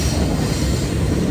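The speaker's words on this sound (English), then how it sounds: "And there it goes. There's the train." A train passes close by at the Royersford train station, a loud, continuous rumbling roar of wheels on rails with a faint high squeal above it.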